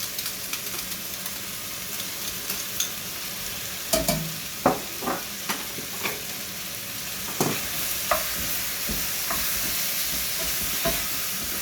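Chopped onion sizzling in a pan of browned stew meat for a ragoût à brun, with a steady soft fry under intermittent sharp stirring clacks from a utensil, no talk.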